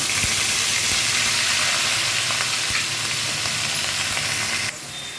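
Onion paste hits hot oil in a frying pan while a hilsa fish dish is being cooked, giving a loud, steady, close-up sizzle and hiss that eases slightly just before the end.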